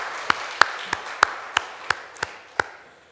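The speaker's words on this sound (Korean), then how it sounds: "우리 감사에 박수 드리면 참 좋겠습니다." During a Sunday church service, a handful of sharp, separate hand claps ring out in a loose rhythm, about eight distinct claps over three seconds in a quiet room.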